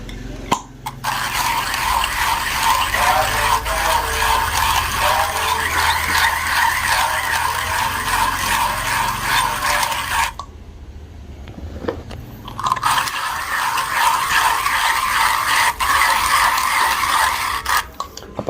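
A Colombia Manantiales coffee is ground for Cafelat Robot espresso in a loud, steady burr grinder whir with a gritty crunching texture, running for about ten seconds, pausing briefly, then starting again.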